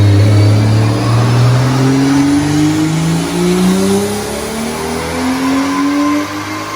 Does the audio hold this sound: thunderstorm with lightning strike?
no